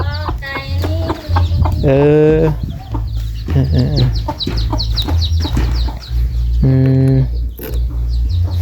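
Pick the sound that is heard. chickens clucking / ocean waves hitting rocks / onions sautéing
chickens clucking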